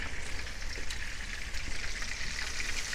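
Country style ribs browning in a frying pan, giving a steady, dense crackling sizzle throughout with no talking.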